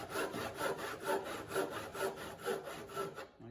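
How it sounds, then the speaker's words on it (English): Tenon saw cutting through timber: gentle, regular back-and-forth rasping strokes, about two per second, close and moderately quiet, ending abruptly. "Remember, if you lean on the saw, the teeth dig into the timber and it makes it more difficult to cut"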